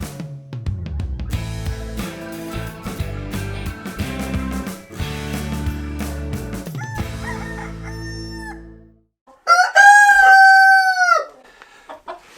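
Roosters crow and chickens cluck inside a chicken stable housing a breeding flock, with a busy mix of clucks and calls early on and one loud, close crow near the end.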